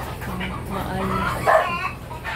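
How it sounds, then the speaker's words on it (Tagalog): A guard dog at a poultry farm gives a few yips and barks at moderate distance, mixed with background farm noise and possible chickens, while a person talks nearby. "Meron silang bantay dito na aso."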